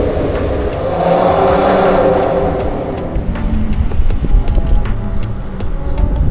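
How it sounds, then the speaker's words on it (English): A car passes on a street near a cyclist, a broad swelling road roar that peaks and then fades into steady traffic and wind noise, close and fairly loud with no talking. "Gotta watch out for cars."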